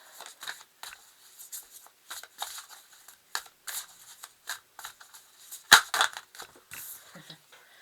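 Tarot cards being shuffled by hand, a run of soft, quick papery riffles and slaps in irregular bursts, close and fairly quiet, with one sharper snap partway through.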